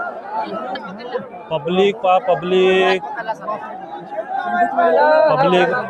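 Dense crowd chatter at a bullock cart race (shankar pat) in Dhiwarwadha, Maharashtra, a loud, continuous babble of many voices with shouts and calls rising and falling.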